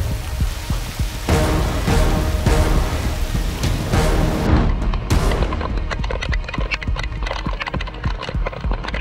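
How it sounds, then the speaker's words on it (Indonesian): Rain falls steadily and densely in the open near a river mouth, a loud continuous hiss with scattered heavier drops and thuds, and no one speaks. "rintikan air perlahan berubah menjadi semakin deras"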